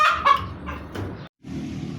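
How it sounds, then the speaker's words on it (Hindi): Hens clucking near their coop as they get ready to lay eggs, a busy run of close, loud clucks and squawks with a brief silent break partway through. "जिस मुर्गी ने अंडा देना होता है ना, वो ऐसी आवाज़ें निकालती है।"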